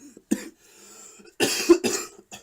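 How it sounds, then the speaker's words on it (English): Several short, harsh coughs come in bursts from a person at close range, a brief one first and then a louder cluster of two or three, with quiet pauses between them. "Oh man, yeah, I got a terrible cough here."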